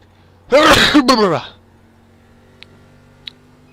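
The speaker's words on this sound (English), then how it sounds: "I gotta sneeze" A single loud, close sneeze from a man seated at a sim racing rig, with a sharp intake and an explosive burst, followed by quiet room hum and two faint clicks.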